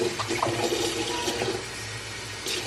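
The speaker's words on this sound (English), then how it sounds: "Next I'm gonna do 2/3 cup of warm water." Warm water, about two-thirds of a cup, poured for bread dough in a home kitchen, making a steady close splashing rush of liquid that lasts a few seconds with no talk.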